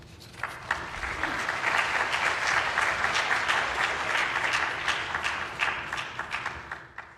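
A lecture audience breaks into steady, sustained applause to welcome a scientist to the podium, many hands clapping together in a dense wash that holds for several seconds before thinning out.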